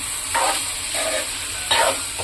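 A spoon stirs cashews in a sizzling pan in three slow, separate scraping passes, close by, with a steady frying hiss underneath.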